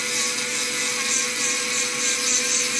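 A small rechargeable micro engraving pen cutter runs steadily at high speed, giving a constant thin whine with a faint buzz beneath it. No voices are heard.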